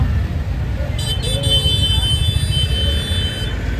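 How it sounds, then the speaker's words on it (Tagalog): Heavy evening street traffic at a night market in India, a steady low rumble of engines with car horns honking and tooting over it, nearby voices talking beneath the din. "Why so much traffic now?"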